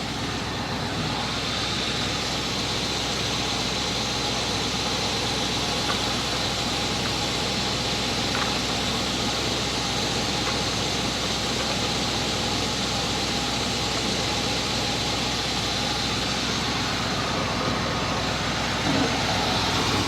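A 1980 Chevrolet Scottsdale's Chevy 350 V8, restarted after sitting parked for 26 years, runs steadily and loudly nearby for the whole stretch with a constant low rumble, no talking.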